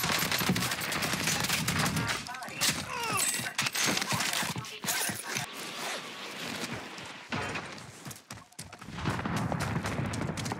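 Video game gunfire sounds as rapid bursts of automatic shots, loud and dense, with brief pauses between volleys and a steady game noise bed underneath.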